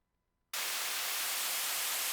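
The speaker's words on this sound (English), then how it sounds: "white noise sweeps and stuff" After a brief near-silence, a loud burst of bright white noise sweep cuts in abruptly and holds steady to the end, used in electronic music production.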